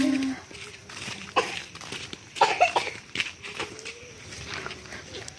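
A child coughs a few times outdoors on a farm where land is being plowed for corn, short harsh bursts scattered among background rustling and faint farm sounds.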